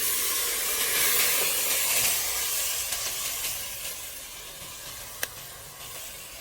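Tenderized pork meat dropped into a hot pot, giving off a loud, steady hiss and sizzle that slowly eases, with one sharp click near the end.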